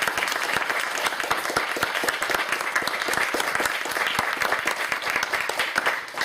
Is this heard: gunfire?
no